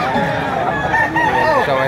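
Chickens at a poultry sale, including kelso roosters, crowing and clucking close by in a brief, busy burst that stays loud throughout.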